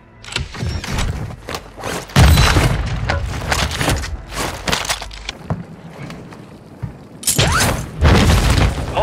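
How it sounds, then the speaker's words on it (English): In Warzone 2 gameplay on Ashika Island, a frag grenade goes off with a loud booming blast among heavy thuds and gunfire bursts, close and intense, with several loud hits spread through the clip. "Throwing frag!"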